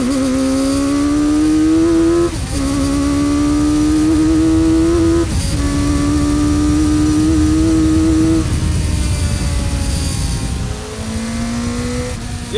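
A loud Kawasaki Ninja 900R-powered custom trike engine revs hard up through several gears, its exhaust popping and crackling briefly at each shift before climbing again.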